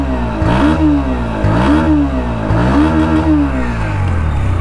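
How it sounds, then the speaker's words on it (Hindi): A 2024 Pulsar NS 125 motorcycle revs loudly up close, its exhaust note climbing and falling in three or four quick throttle blips before settling into a steady drone. "एक बार एग्जॉस्ट नोट सुनो"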